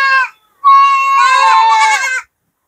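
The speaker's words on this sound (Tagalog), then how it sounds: "Yung pinakamaingay yung kambing dito," A goat at a farm bleats loudly and close, a short cry followed by a longer wavering bleat.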